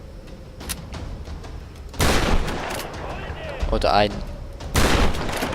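Gunfire in the Tomb Raider video game: several sharp bursts and booming shots break through at intervals, with someone talking in German between and over them.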